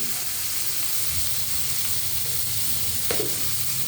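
Capsicum and onion frying with turmeric and salt in a pan give off a loud, steady sizzle close by, with a light stirring scrape near the end.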